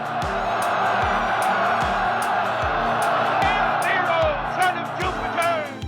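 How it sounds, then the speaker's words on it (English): Roman crowd roaring and cheering at the emperor's appearance, a dense sustained swell of voices with shouts and whoops rising toward the end, over a steady low rhythmic drumming pulse. "The moment the emperor appeared, the crowd erupted in excitement."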